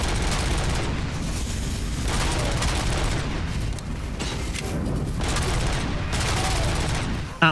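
Heavy enemy gunfire in the video game Robocop: Rogue City rattles in dense, rapid bursts of overlapping shots and booms, loud and almost continuous, with a few brief lulls between volleys.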